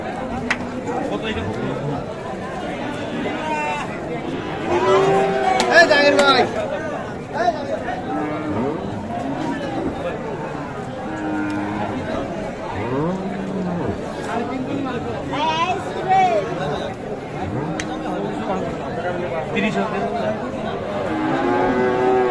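Shahiwal cattle moo low and drawn-out amid a busy livestock market crowd, with people chattering and talking over the animals.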